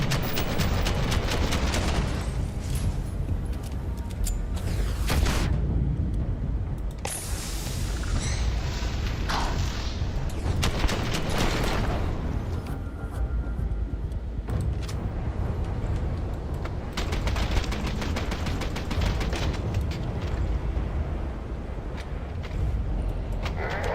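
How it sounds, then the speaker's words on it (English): Repeated pistol shots from Livingston's pistol in Starfield ring out in a series of sharp, heavy bursts spread across a noisy game-combat soundscape, with gaps between volleys. "Livingston's pistol just kicks like an ass"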